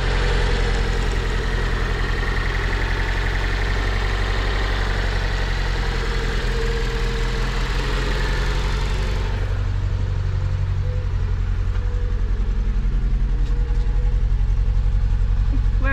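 A Fiat Punto engine idles steadily with a low, continuous rumble and a possible misfire, close by and alone with no talking, the tone shifting slightly partway through.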